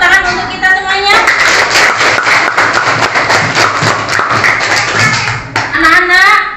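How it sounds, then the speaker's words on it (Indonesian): A group of children in a school classroom claps together steadily for about four seconds, loud and close. A teacher's voice speaks before and after the applause. "Tepuk tangan untuk kita semuanya."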